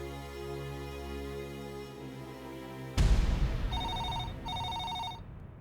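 A telephone rings in a home in a Tamil TV serial, two bright electronic rings with a short pause between them, cutting in loudly over a sustained musical drone.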